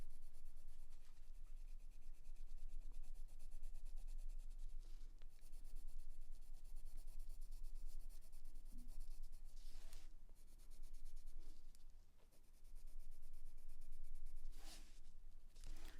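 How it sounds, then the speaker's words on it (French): A pencil shades a drawn nose in steady, close scratchy strokes that run almost continuously, with brief pauses and a few harder strokes along the way. "Le nez, on va creuser ici l'ombre délicatement, mais il ne faut pas avoir de ligne tranchante"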